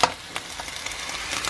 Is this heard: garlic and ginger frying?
yes